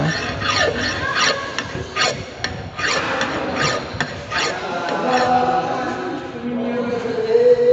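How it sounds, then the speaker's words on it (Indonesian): A hand file smooths a metal workpiece at a workbench, giving close, steady, rhythmic rasping strokes that run continuously and loudly without pause. "Kita terus mengikir sampai halus ya, kita terus mengikir sampai halus."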